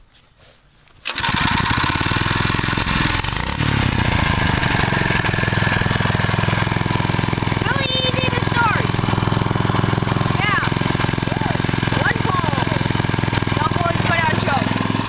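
A go-kart engine fires up after about a second of quiet and runs steadily and loudly at a rough, buzzing idle for the rest of the stretch, with faint voices now and then beneath it.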